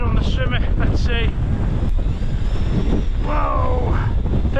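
Strong wind buffets the microphone on an exposed mountain summit during a storm, a loud constant roar with gusty surges throughout.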